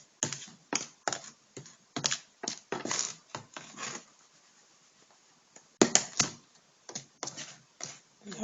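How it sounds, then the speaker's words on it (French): Cornflakes being crushed for homemade KFC-style breading give off a series of short, dry crackling crunches in irregular bursts, close and fairly quiet, with pauses between them. "Nos cornflakes sont écrasés comme il faut."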